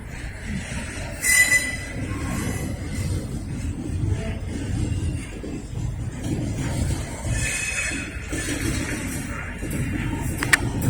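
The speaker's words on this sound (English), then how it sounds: "I'm just wondering if that's the wheel against the track." A Norfolk Southern train moving slowly through the Kinney yard connector in Lynchburg, its wheels squealing against the track in high-pitched, wavering whines over a steady rumble of rolling cars.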